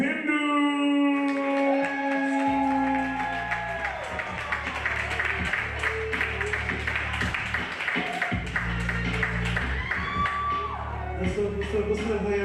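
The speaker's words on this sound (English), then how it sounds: "Please put your hands in and clap it up and show some love for Upindu." Open mic night crowd at a venue clapping, whooping and shouting to welcome the next performer, a sustained burst of applause with a voice rising above it.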